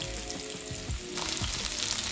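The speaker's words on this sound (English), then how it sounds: "So as the chicken's frying," Steady hissing sizzle of gluten-free-flour-breaded chicken frying in a hot pan, with crackles and pops throughout and a brief stirring scrape midway.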